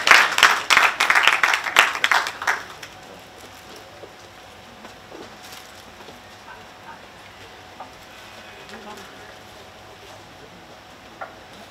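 Applause at a memorial lecture, a loud burst of crowd clapping lasting about two and a half seconds before dying away into a quiet hall with faint room noise.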